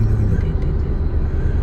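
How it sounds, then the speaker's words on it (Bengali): Cars descend a steep mountain road on the way to Yamunotri, a low, steady engine and tyre rumble close by, heard from inside a moving vehicle. "কি স্পিডে নামছে গাড়িগুলো।"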